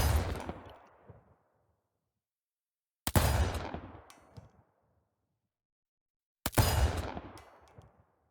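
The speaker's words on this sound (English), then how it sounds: "I'll show you the shotgun in isolation." A redesigned shotgun effect for The Last of Us 2, heard alone: three loud, sharp blasts spaced about three seconds apart, each ringing off into a decaying metallic tail before silence.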